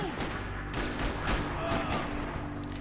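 Rapid bursts of gunfire in the video game Max Payne 3 crack in quick succession over a busy, rumbling background, loud and sustained for a few seconds.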